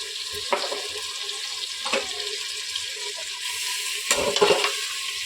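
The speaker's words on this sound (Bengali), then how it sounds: "দু মিনিট একটু নেড়ে চেড়ে নেব, নিয়ে তারপর জল দিয়ে দেবো" Washed rice and lentils sizzle as they are stirred and fried with spices for khichuri in a pressure cooker, making a continuous close frying hiss broken by a few scraping stirs.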